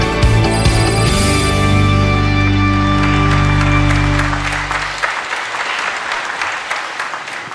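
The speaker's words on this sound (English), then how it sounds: "Please welcome him with a big round of applause." A large forum audience breaks into loud, dense applause to welcome a university professor to the stage, with sustained electronic music tones playing over it before fading and leaving the clapping to taper off.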